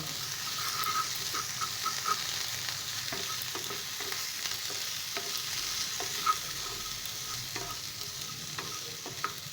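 Ginger paste, salt, turmeric and ground coriander are stirred into vermicelli frying in a little oil, making a constant soft sizzle with light, regular spoon scrapes and taps close by.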